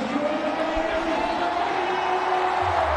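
Cricket stadium crowd at a World XI vs Pakistan T20 match, a steady loud roar of cheering spectators that fills the whole stretch without a break.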